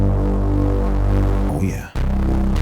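A Bitwig Grid bass synth patch with white noise driving the filter's modulation input: a loud, steady, throbbing low bass drone that turns gritty and hissy partway through, drops out for an instant, then resumes.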